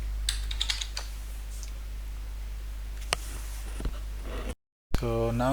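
Fingers type a password on a computer keyboard in a few quick bursts of close, crisp key clicks over a low steady hum, with a short silence and then brief speech at the end.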